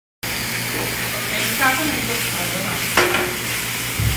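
Beef medallion and shrimp fry in a pan in a restaurant kitchen, giving a steady close sizzle with a few brief stirring clatters and a sharp crackle near the end.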